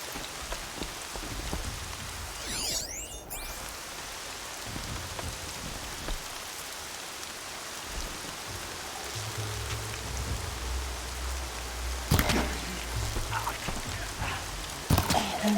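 Rain falls in the video game Horizon Zero Dawn as a steady, soft hiss of drops on surfaces that lasts throughout, broken by a few sharp clatters and low rumbles.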